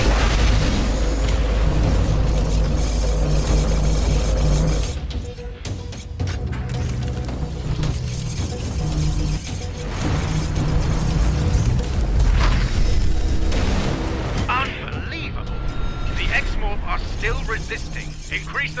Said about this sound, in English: Charge up the frostbite cannon.